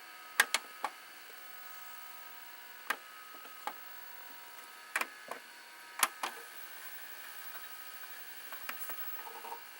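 Sharp, sparse mechanical clicks and ticks from a Panasonic NV-SD300 multi-system VCR with a K mechanism answer a press of the record button, scattered irregularly over a quiet background hum.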